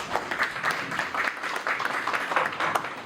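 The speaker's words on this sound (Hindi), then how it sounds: "एक बार फिर जोरदार तालियों से स्वागत करें" At a retirement farewell function, a modest crowd claps in uneven bursts to welcome the honoree's family, at a moderate level and fairly close.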